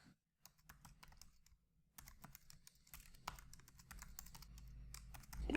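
Typing code on a computer keyboard during a TypeScript programming session, with scattered, irregular keystroke clicks that grow denser and louder toward the end, close and alone without talk.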